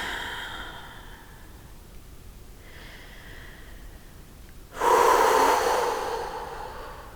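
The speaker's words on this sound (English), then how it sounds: "Just breathe." Breathing during a yoga arm hold: soft, steady breaths, then a sudden loud, breathy exhale near the end that fades out slowly.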